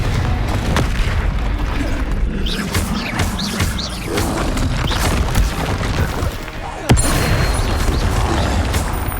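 Booming Confringo blasting-spell explosions from the video game Hogwarts Legacy, dense and continuous over rumbling combat noise, with one sharp, louder blast near the end.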